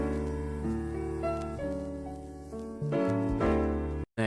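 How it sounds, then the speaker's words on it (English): A jazz sample playing on its own, with sustained tonal chords and shifting harmonies over a steady bass, ending in a brief dropout just before the close. "a jazz sample that I thought sounded pretty good"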